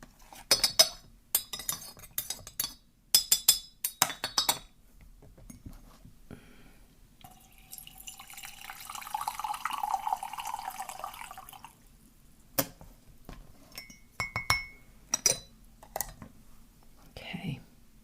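Spoon stirring a cup of green tea: bright metallic clinks and taps in quick clusters, pausing for a soft swishing pour in the middle, then more scattered clinks, with quiet whispered speech close by.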